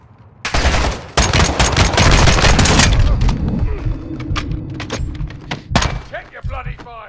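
Sustained automatic gunfire in the Modern Warfare 2 campaign, opening with a loud, dense burst of rapid shots and then thinning into scattered single shots, with voices talking over the firefight.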